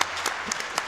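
The live crowd at the SGDQ 2018 speedrun marathon claps during a Resident Evil 4 PC run, a short, even burst of many hands with a few sharper individual claps.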